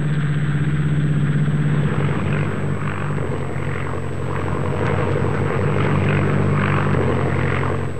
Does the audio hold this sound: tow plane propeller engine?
yes